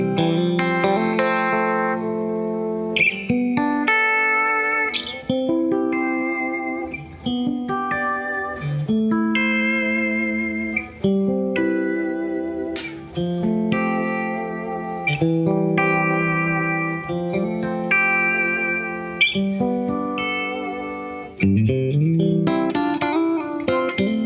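Electric guitar through an amp into a vintage Vibro 112 cabinet, miked with a 121, playing melodic lines and chords, with a light reverb tail and some effects coloring, steady and close, no voices.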